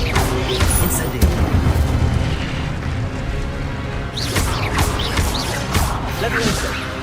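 Spell combat in Hogwarts Legacy with the Incendio fire spell, heard as a dense mix of deep booms, crashing impacts and whooshing magic bursts that repeat throughout, with a voice talking underneath.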